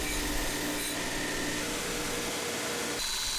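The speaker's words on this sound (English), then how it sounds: "That there's a belt sander." A belt sander grinds the edges of worn tool heads in a continuous, loud, close whir. Its tone shifts slightly near the end, and no one speaks.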